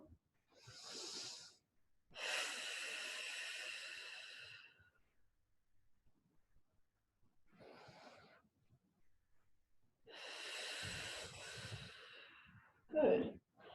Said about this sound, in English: A few long, deep breaths here.